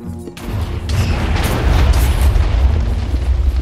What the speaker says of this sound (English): On the other side of this stupid explosion